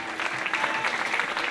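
A crowd at a motorsport awards ceremony applauds the Super Buggy podium winners with dense, continuous clapping that is moderately loud and even throughout, with no voices above it.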